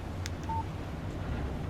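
A phone's text message alert in Alan Wake gives a brief, faint electronic chirp against a low background hum.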